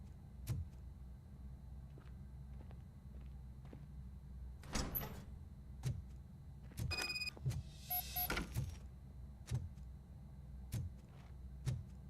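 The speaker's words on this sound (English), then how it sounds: "Now let me get that door open for you." A door opens in the video game RoboCop: Rogue City with a mechanical sliding whir and clunks, surrounded by regular soft footstep-like thuds, all fairly quiet and without speech.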